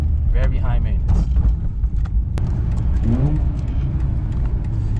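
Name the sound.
car engine revving during heel-toe downshift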